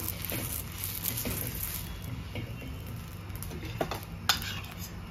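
Pav bread for pav bhaji is pressed and turned through masala on a hot pan, giving a steady low sizzle with soft scraping and a few light clinks of a utensil against the pan.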